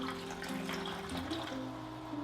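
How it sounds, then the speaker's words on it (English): Alkaline water is poured from a faucet-like stream into containers, a continuous close splashing trickle with shifting tonal ringing as each vessel fills. "And actually watch what happens when I actually pour"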